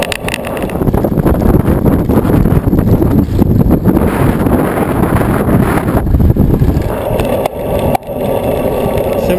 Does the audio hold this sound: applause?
no